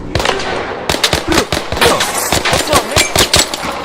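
Video game gunfire rattles in rapid bursts of sharp, loud shots, close and dense like machine-gun fire, heard alone with no talk.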